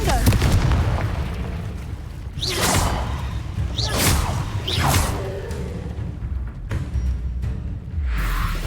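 Spells blast in the Hogwarts Legacy video game, with several loud whooshing bursts and booming impacts spaced a second or so apart over rumbling game sound, while a voice speaks among them.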